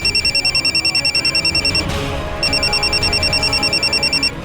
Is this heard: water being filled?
no